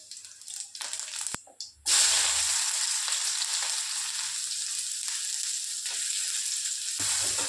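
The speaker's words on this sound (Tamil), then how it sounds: "எண்ணெய் காஞ்சிருச்சுங்க, கடுகு போட்டுக்கலாம்" Mustard seeds spatter in hot oil for a South Indian tempering, a sharp hiss starting after a short clatter and then holding as a steady, close sizzle with scattered crackles.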